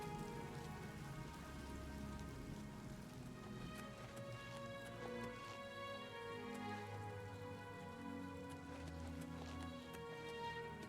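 Steady rain falls continuously in the video game Oblivion, a dense even patter with faint horse-like clip-clop steps mixed in, with no talking.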